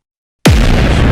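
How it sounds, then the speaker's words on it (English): A sudden loud explosion in a dark horror narration bursts in after near silence, with a deep booming onset that settles into a sustained roaring rumble and debris-like crackle. "the world answered with an explosion too"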